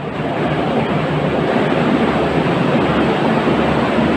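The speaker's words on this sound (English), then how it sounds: "Let's try and get away from that train." A loud train passing through a station, a dense, steady roar of rumbling wheels and rushing air close by, filling the whole stretch without pause.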